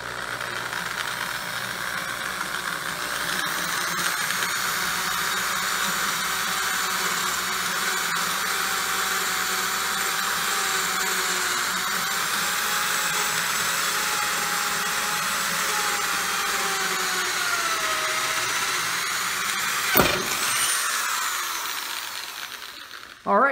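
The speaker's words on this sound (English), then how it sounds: "now I'm just going to try and drill through. I don't know how hard this metal is going to be or how sharp this bit is." A power drill bores through metal on a hoverboard being converted into a mobile power plant, whining steadily at close range for over twenty seconds before stopping with a brief clatter.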